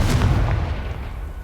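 A Confringo fire spell explodes in the Hogwarts Legacy video game, a single loud booming blast up front that rolls off into a dull, fading rumble.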